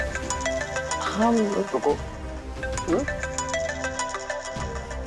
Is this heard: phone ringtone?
yes